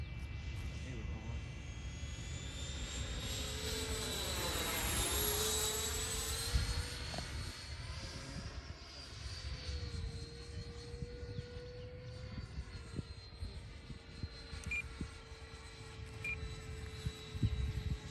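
A Freewing A-4E/F Skyhawk RC jet with an afterburner-equipped electric ducted fan on its maiden flight, whining steadily as it makes a close pass with a sweeping Doppler pitch change, then holding a high whine as it draws away outdoors.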